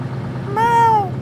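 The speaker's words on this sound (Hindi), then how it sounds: "ये क्या है? बीच सड़क पर बिल्ली।" A single clear meow from a cat sitting in the middle of a road, a rising-then-falling cry about half a second long, fairly close over a low background rumble.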